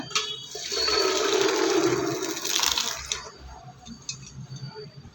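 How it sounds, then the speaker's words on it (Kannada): Water pours and drains from washed lentils through a strainer for about three seconds, a rushing gush close up, then fades to small drips and clinks. "ಬೇಳೆನ ಸೋದಿಸ್ಕೊಳ್ಳೋಣ ಈಗ"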